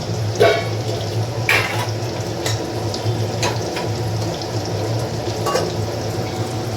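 Pointed gourd (potol) frying in a pan in a home kitchen, a steady close sizzle with a few sharper crackles and stirring scrapes, with no talk over it.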